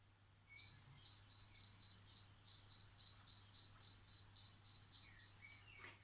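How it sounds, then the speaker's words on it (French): A cricket chirps alone in a steady, even rhythm, about three pulsing trills per second, clear and close against a quiet background. "on a demandé au grillon de reprendre son chant"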